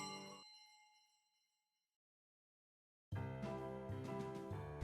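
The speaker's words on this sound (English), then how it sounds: "I heard the delightful sound of bells ringing off in the distance." Distant bells from a visual novel game fade out in a slow ringing decay, followed by a stretch of silence before music swells in loudly.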